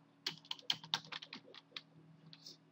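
Keys tapped on a computer keyboard while a word is entered into a Windows 10 search bar, a quick run of close, crisp clicks that speeds up and then thins out, heard alone without talk.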